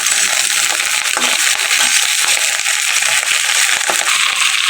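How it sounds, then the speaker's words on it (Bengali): Turnip stalks and leaves tipped into a hot frying pan of oil set off a loud, dense, continuous sizzle with scattered crackles, close up and without speech. "এর ভিতরে দিয়ে দিচ্ছি আমি যে শালগমের ডাঁটা এবং পাতাগুলো"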